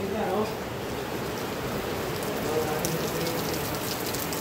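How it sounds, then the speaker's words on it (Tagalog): Dense, steady rain hisses down hard on a surface, a constant wash of sound with no letup. "Lakas ng ulan."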